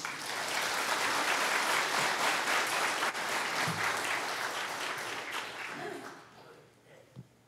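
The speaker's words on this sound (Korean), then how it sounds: "우리 김인준 목사님 나오실 때 다시 한번 큰 박수 보내주시기 바랍니다." A church congregation at a revival meeting claps steadily in a dense, sustained round of applause that gradually thins out and fades near the end.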